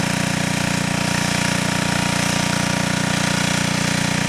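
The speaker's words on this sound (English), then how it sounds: "That engine's about shot on that generator." Worn generator engine that burns a lot of oil runs steadily with a rough, rapid knocking chatter, loud and close, unchanging and with no voices.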